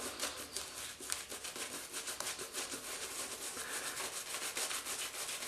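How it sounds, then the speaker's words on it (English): Soft, rapid brushing and squishing of thick Mitchell's Wool Fat shaving soap lather being worked, a quiet continuous rubbing with no voices. "Now the more you work this lather, the better it gets."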